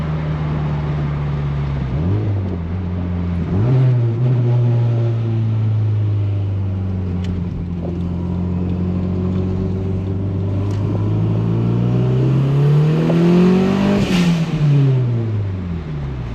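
A Toyota MR2 engine revs loudly and close up, its pitch rising and falling through several pulls, with a fluttery turbo blow-off valve chatter as the revs drop.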